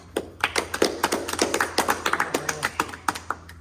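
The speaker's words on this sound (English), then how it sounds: "Give it a round of applause." A small comedy-show audience claps: a short burst of sparse, distinct handclaps, fairly close and unhurried, with no talking over it.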